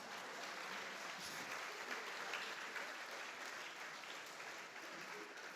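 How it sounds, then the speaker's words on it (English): Steady applause from an audience at a language conference talk, a continuous wash of many hands clapping, fairly distant and even throughout. "Thank you for clapping."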